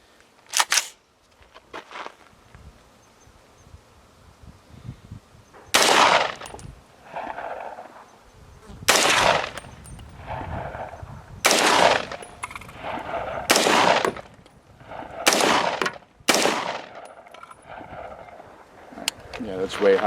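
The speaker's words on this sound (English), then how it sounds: "All right, let's load her up. This is 300 blackout." Rifle shots from 300 Blackout and 5.56 rifles at an outdoor range at Four Peaks, Arizona, fired as about seven loud, sharp cracks spaced a second or two apart, with people talking quietly in between.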